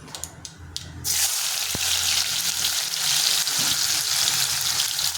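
Chopped onion drops into hot oil already holding cumin and mustard seeds, setting off a loud, steady broadband sizzle that jumps up after a second of quieter crackle and runs on unbroken, with no talk.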